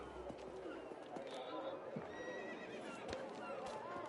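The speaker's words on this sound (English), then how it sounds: "Alright, back on our horses then." A horse in the video game Mafia: The Old Country whinnies amid hoof clip-clops and a busy background bustle, with a voice speaking faintly underneath.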